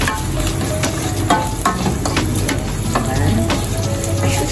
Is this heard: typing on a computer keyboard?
no